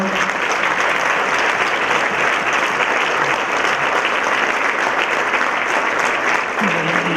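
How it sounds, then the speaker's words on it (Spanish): A conference audience gives a big round of applause at the closing of a congress, steady dense clapping filling the room from start to finish with no speech over it. "Le pido, primero que todos, a todos un gran aplauso"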